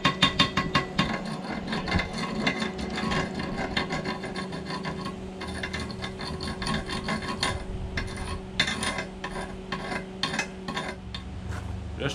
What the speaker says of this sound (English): Just show you my close view of my arc welding